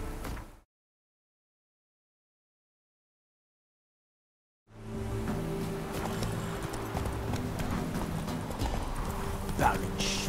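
Roach, a horse in the Witcher 3 game, clip-clops along after a brief gap of silence, with a quick steady hoof rhythm under speech and game sounds.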